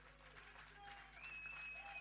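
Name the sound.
audience applause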